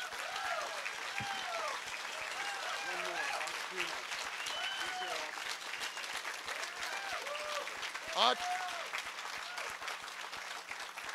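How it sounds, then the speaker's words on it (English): An audience at the 2012 Gathering of the Eagles gives another round of applause, a steady, fairly distant patter of many hands, with voices carrying over it and a brief louder burst near the end. "Give them another round of applause."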